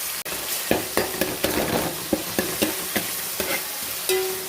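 Tomatoes softening in a pan for a Tamil home-style sambar, stirred with repeated scrapes and clinks of a spoon against the metal over a steady close sizzle, with no voices.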